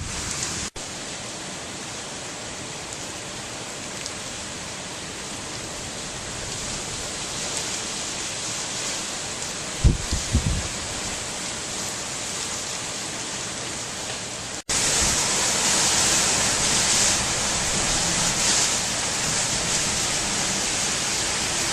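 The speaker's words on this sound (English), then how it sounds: "we're getting some fairly impressive gusts, steady winds, a little bit of blowing debris" Hurricane Earl's gusting winds and steady wind in Halifax roar as a dense, continuous broadband rush with no talk, briefly punctuated by a low thump near the middle and growing louder and harsher in the final stretch.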